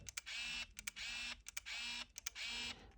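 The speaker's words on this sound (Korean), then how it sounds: "셔터를 누르고 있으면 네, 자동으로 이렇게 촬영이 되는 연사 모드가 가능합니다" Canon Autoboy J film camera firing in continuous shooting mode: four rapid mechanical bursts of shutter and film-advance whirring, each about half a second long with short gaps between, close and alone with no talk.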